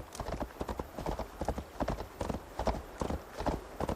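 A horse gallops in Assassin's Creed Valhalla, its hooves beating in a quick, steady rhythm of clip-clops throughout at moderate loudness, alone without speech.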